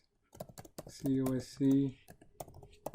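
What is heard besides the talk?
typing on a computer keyboard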